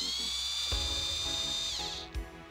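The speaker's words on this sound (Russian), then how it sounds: "В нижней части коробочки от Kinder Surprise можно просверлить отверстие 4 мм." A small drill boring a 4 mm hole in a plastic Kinder Surprise capsule, a steady high-pitched motor whine held for about two seconds, then winding down with a brief thump, close and alone.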